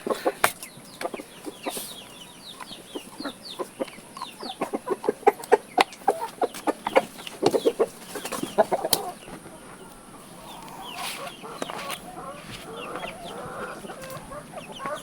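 Chickens cluck and squawk in rapid, busy bursts close by, with a rooster among them, the flock chattering on and off throughout.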